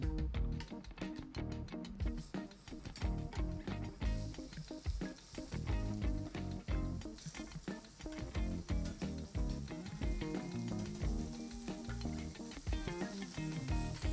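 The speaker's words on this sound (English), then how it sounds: "While the scallops are searing" Sea scallops sear in a hot pan, giving a dense, crackling sizzle that continues without a break for the whole stretch, close and fairly loud, with no voices.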